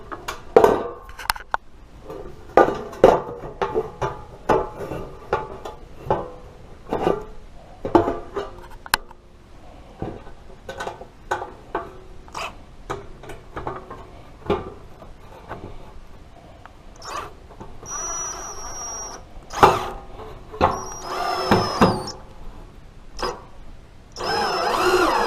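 Three metal pieces being bolted together by hand, with a run of sharp clicks, ratcheting clatter and metallic knocks at an irregular pace, close up and fairly loud, with a few brighter scraping squeaks near the end.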